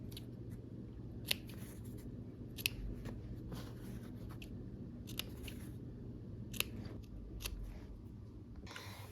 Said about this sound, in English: now we will clip the corners